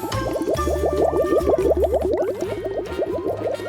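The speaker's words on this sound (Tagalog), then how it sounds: "Ang tubig ay kumukulo." Water bubbling at a rolling boil, a rapid, even stream of small pops and gurgles heard close up, steady throughout with a low hum underneath.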